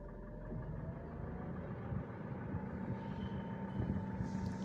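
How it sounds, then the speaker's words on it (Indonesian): A Mitsubishi Pajero Sport with a turbocharged engine idling with the air conditioning switched on, a steady low rumble with a faint hum above it, even and continuous throughout. "Coba kita nyalakan AC-nya, suaranya tambah kenceng dan suaranya juga tidak abnormal ya, tambah banter."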